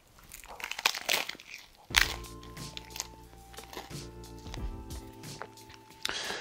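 Crispy chips inside a KFC double taco crunch close up as it is bitten and chewed, a series of irregular crackly bursts over a steady background hum.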